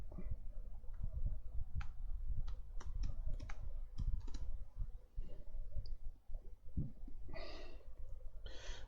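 Keys clack on a computer keyboard in a quick, uneven series of close, crisp taps, with faint breathing between keystrokes and a brief pause before a last cluster of clicks.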